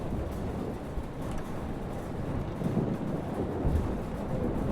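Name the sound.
thunderstorm in the video game Life is Strange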